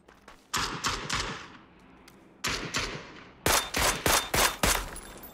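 Bursts of rapid machine gun fire in the PUBG video game, three separate volleys of sharp repeated shots, with the last burst louder and closer.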